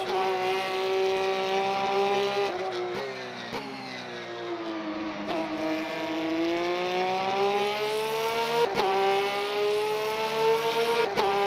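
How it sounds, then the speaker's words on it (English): A race car engine in the Le Mans Ultimate sim racing game holds a loud, sustained whine that rises through the revs, broken by several sharp gear upshifts as the pitch drops and climbs again. "It's a satisfying upshift, I have to say."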